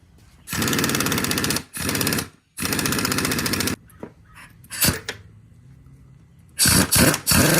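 A power tool tightens bolts during a drop kit install on a 2005-2013 Toyota Tacoma X Runner, rattling out in three loud, close bursts of about a second each. A few short clicks and quieter gaps follow before a final choppy burst.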